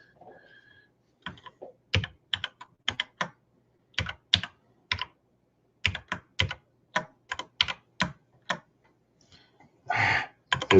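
Keys clatter on a computer keyboard in short, close bursts of crisp clicks separated by pauses. A quicker, denser flurry of keystrokes comes near the end.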